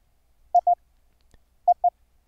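Morse code tones sent over an internet voice link: two clean pairs of short beeps at a steady pitch, separated by a second of near silence, crisp and close.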